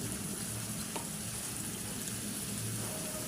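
Onion sizzling and frying in a pan of oil while being stirred for a Bengali egg bhuna, with a steady close hiss and occasional scrape of the spoon, no talk.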